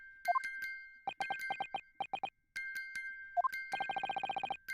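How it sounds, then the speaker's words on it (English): Music box from the Great Ace Attorney game chiming a Morse code message, bright metallic tones in short and long bursts with gaps between them, ending in a rapid run of repeated chimes, clear and close with no voices. "the sound emanating from this music box is Not supposed to be music"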